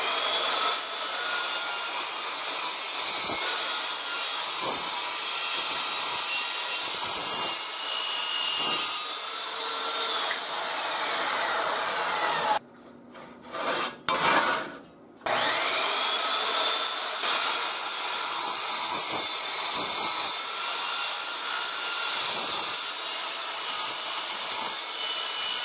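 An Evolution chop saw cuts through metal with a sustained loud, harsh grinding rasp, close by, broken briefly midway by a short pause before the cut resumes.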